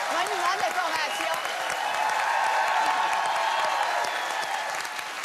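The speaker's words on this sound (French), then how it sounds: "On l'applaudit." A TV studio audience applauds warmly at an anniversary gala broadcast, a thick continuous wash of clapping with faint voices and whoops mixed in underneath.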